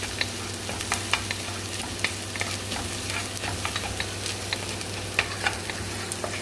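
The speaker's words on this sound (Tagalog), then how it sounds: "Lagay na natin yung garlic at saka ginger. At lutoy lang natin saglit." Garlic and ginger sizzle steadily in a hot pan, a continuous frying hiss punctuated by faint stirring clicks and scrapes, close and moderately loud with no talking.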